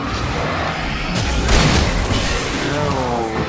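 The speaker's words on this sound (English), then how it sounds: "Dude, love those fireworks." Fireworks booming in a dense, noisy burst, a loud crackling wash with a heavier boom in the middle, no voices over it.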